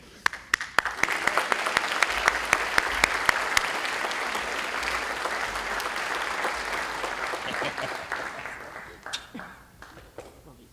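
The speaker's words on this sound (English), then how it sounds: "we can do another clap" An audience at a high school Academic Hall of Fame ceremony bursts into sustained applause, many hands clapping densely for several seconds before gradually thinning out and fading.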